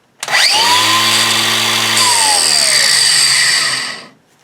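A loud angle grinder with dry, worn gears spins up sharply and runs at a steady high whine for about four seconds, then winds down and stops, heard close with no talk.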